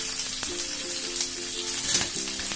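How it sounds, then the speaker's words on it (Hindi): Onions and mixed vegetables stir-fry over a high flame in a pan, a loud, close, continuous sizzle with occasional scrapes and clinks from stirring. "तो इनको पहले मैं एक बार इन्हें फ्राई करूंगा स्टर फ्राई"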